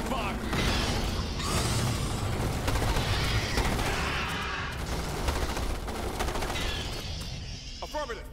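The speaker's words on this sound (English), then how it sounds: "Opening fire." Sustained automatic gunfire from a Starship Troopers: Terran Command cave-clearing battle, dense rattling bursts and mechanical clatter running throughout, with radio-style voices speaking over the fighting.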